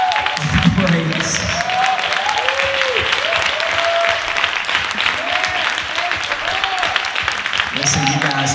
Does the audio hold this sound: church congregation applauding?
yes